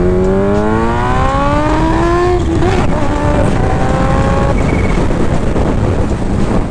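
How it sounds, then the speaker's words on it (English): A Kawasaki H2 motorcycle accelerates hard, its engine note climbing steeply through rising revs under loud, constant wind rush across the microphone, with no voices. "I need to get one little good pull here, because I'm on the H2"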